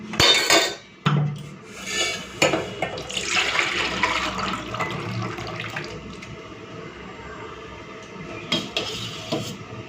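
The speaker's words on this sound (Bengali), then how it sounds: "বেশ এখন দিয়ে দিচ্ছি জল।" Water is poured into a cooking pot of boiled dal and potatoes with turmeric, a rushing splash with clanks of the pot and utensils, close and loud, easing into a softer trickle and stirring.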